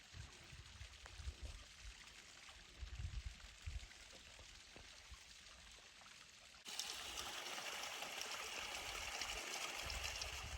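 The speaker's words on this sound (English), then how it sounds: "There's a waterfall. It's small" Small forest waterfall on a stream trickling and splashing steadily, growing louder and brighter partway through as if approached more closely.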